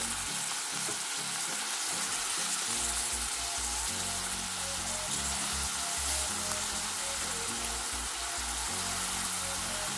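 Chopped tomatoes and soaked green peas fry in a pan for a vegetable puff filling, making a loud, continuous sizzle with stirring scrapes and clatter throughout. No voices.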